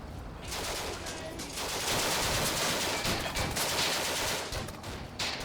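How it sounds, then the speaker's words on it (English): Tanks fire in the desert war game Combat Mission: Afrika Korps, a loud, sustained rattle of rapid gunfire bursts that runs almost continuously without pause. "My tanks are shooting at it."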